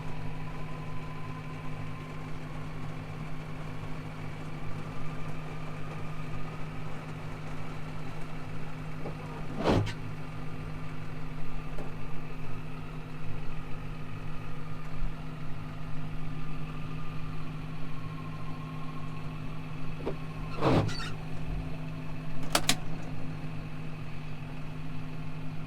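A Gator utility vehicle's engine drones steadily at a low, even pitch while driving out of mud, with a few sharp clanks and knocks breaking through.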